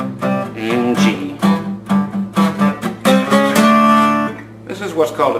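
Acoustic guitar strums through a beginner 12-bar blues progression in G, with repeated rhythmic chord strokes ringing close and loud, alone without talk.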